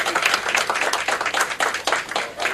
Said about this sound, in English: Have a round of applause for Tanya